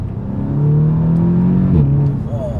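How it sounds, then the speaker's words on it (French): An Audi S3 engine hums steadily, then blips up in pitch as the gearbox downshifts, heard from inside the cabin. "Donc là, on a la boîte qui rétrograde."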